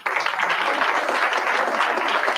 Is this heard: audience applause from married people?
yes